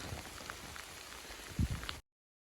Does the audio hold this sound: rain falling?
yes